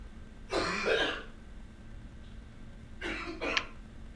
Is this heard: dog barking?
no